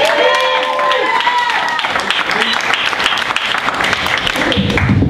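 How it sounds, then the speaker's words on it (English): An audience at a comedy showcase claps loudly and continuously while a voice speaks over the applause at the start. "Applause for Jason Go."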